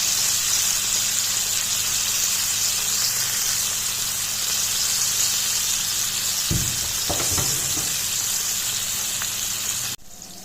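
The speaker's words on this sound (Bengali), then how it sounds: "মাছ ভাজা হয়ে গিয়েছে, এখন নামিয়ে ফেলব" Sari sea fish fries in a pan with a steady, close hiss of sizzling oil throughout, a few soft clatters of handling midway, and no talking.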